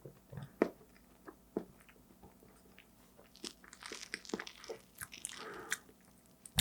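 Eating a mango crepe cake, with soft close bites and wet chewing and mouth sounds in an irregular rhythm, quiet and near, with no talking.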